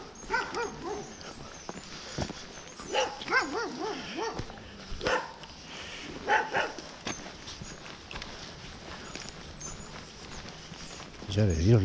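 Several hunting dogs on a rabbit hunt bay in repeated bursts while running through the field, with footsteps and someone talking in between.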